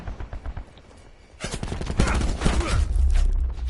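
Rapid submachine gun fire in the video game Call of Duty Black Ops 4, dense bursts of shots with heavy low thumps building over the last two seconds, loud and close, after quieter game sounds.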